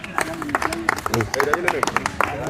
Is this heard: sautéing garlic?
no